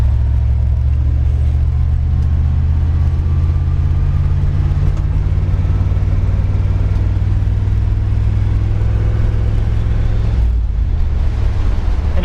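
A steady low rumbling drone of a 1964 Dodge Custom 880's A727 pushbutton transmission with a rough, rattly texture underneath, continuous throughout and fairly loud, easing slightly near the end.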